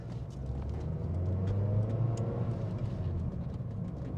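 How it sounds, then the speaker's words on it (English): A Ford Fiesta engine held at full throttle while merging into traffic, a steady loud low rumble that builds slightly as revs climb toward a high red line, heard from inside the car with road noise throughout. "That's full throttle."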